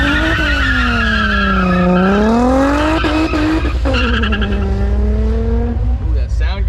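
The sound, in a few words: Corvette doing a burnout, tires squealing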